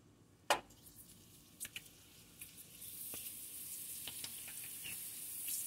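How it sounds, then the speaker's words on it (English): Wheat pellets fry in hot Crisco oil: a few sharp clicks and pops early on, then a steady, close sizzle that builds and holds as a bright hiss with scattered crackles. "Okay, here's my hot oil."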